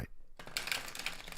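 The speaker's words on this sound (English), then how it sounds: "I want to shuffle like this." Tarot cards being shuffled by hand, heard as soft, close riffling and rustling with brief crisp flicks, quiet and continuous after a short pause.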